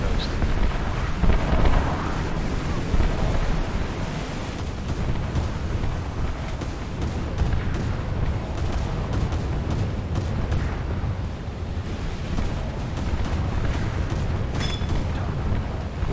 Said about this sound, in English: Watch a quick salvo at that guy.